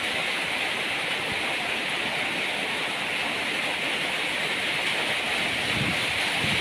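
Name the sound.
rain falling outside a house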